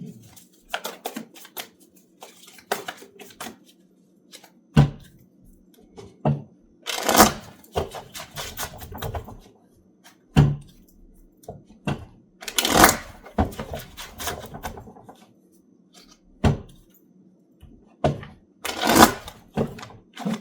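Tarot cards being shuffled by hand for a career reading, bursts of riffling and slapping separated by quiet gaps, close and crisp, with occasional light taps between.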